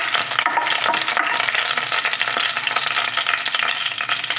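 Chillies frying in hot oil for a Tamil surakkai moor kulambu, giving a steady, close, loud sizzle with crackling bursts throughout and no voices.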